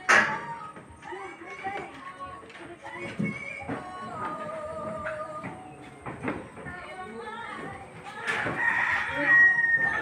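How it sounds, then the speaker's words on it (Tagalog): Roosters crow and chickens cluck outdoors among trees in Alicia, Bohol, with scattered calls across the stretch and a louder crow near the end, mixed with background voices and ambient noise. "May mga manok dadto."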